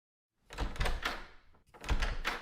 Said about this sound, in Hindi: दरवाजा खोलना, देखना कौन है।